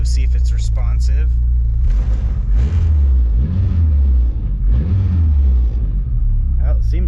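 A Honda D16Y7 engine fitted with a VTEC cam rumbles low and close, swelling with a couple of revs under frequent talking.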